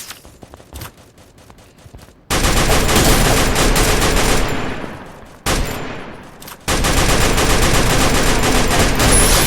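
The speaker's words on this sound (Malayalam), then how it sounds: "ഇവിടെ പോയി നിന്ന് വെടിയിക്കാം ഗൈസ്" Rapid bursts of video game gunfire, loud and dense, with automatic volleys that cut off briefly before resuming.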